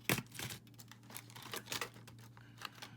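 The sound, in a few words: snipping off excess wire for a bracelet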